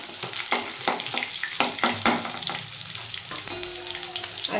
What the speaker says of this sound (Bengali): আমি মাছগুলো এবার তুলে দিচ্ছি।